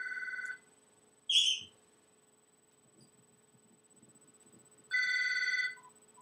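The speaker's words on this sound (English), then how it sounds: "my phone's ringing" A phone rings in short electronic trilling bursts separated by quiet pauses, clear and fairly close, with a faint hum underneath.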